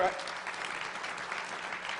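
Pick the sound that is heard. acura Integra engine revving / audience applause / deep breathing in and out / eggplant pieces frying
audience applause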